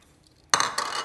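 Hard, dried chile pods tumble into a blender cup in a sudden rattling clatter after a near-silent moment, bright and close, settling into a brief second clink.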